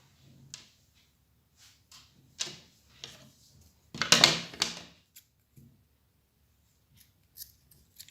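Scissors snip through macramé bracelet threads in a few quiet, separate cuts, with one louder cluster of snips near the middle and faint small handling sounds between them.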